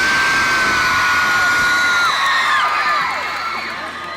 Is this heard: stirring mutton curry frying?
no